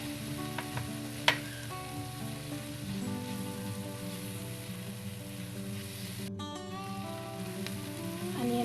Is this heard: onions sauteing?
yes